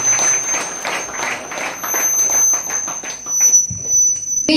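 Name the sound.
congregation clapping loudly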